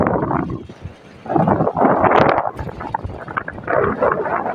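Gusts of wind buffet a freshly built vine trellis in a gourd field, coming as loud rushing surges with flapping and rustling, close to the microphone, with no speech.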